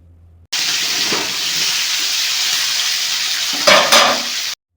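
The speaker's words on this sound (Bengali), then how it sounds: "এখন শুধু কাজ হচ্ছে অনবরত নাড়তে হবে" A curry sizzles and hisses steadily in a hot pan while it is stirred continuously; the loud frying noise runs unbroken, with a couple of louder scraping flurries near the end, and no one speaks.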